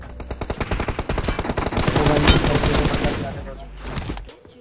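Rapid automatic gunfire from a mobile shooter video game, loud bursts of machine-gun fire rattling continuously for several seconds before tapering off.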